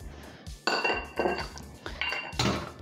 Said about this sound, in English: give that a nice mix around to make sure that the orange zest and the sugar are mixed in.